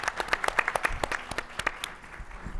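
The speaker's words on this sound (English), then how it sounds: "One more round of applause for everybody." Audience applause closing a summit panel luncheon, a short burst of distinct claps from a modest crowd that thins and fades within a couple of seconds.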